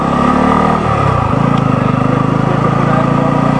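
A Bajaj Pulsar F250 motorcycle engine runs close by, loud and steady, with a pulsing idle that shifts to a firmer, throbbing beat after about a second and holds there.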